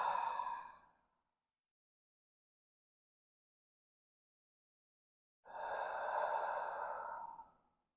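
Two deep, slow breaths during a yoga session, each a soft airy exhale. The first trails off after a second, and after a long silence the second runs about two seconds, close and clear.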